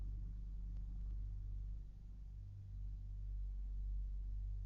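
A truck engine idles with a steady low rumble inside the cab, no voices over it, for a radio drama sound effect.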